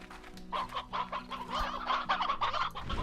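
Several hens in the Slime Rancher video game cluck continuously, overlapping bursts of close, busy clucking over a low background hum.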